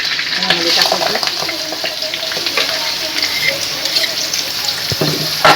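Finely chopped onions sizzle and fry in hot oil with curry leaves while being stirred for hotel-style misal, a steady close crackling hiss with scraping spoon strokes throughout.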